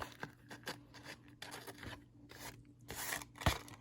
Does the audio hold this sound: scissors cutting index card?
yes